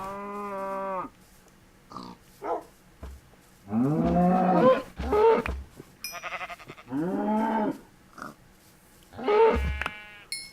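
Cows in the Minecraft video game moo repeatedly, several drawn-out lowing calls spaced a second or two apart with short clicks and game sounds between them, clear and close with no talking.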